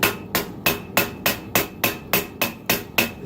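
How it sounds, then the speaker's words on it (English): A hammer strikes hot steel while forging the clip of a Bowie knife, landing about ten steady, evenly spaced ringing blows, close and alone. "this bit I'm forging here is called the clip"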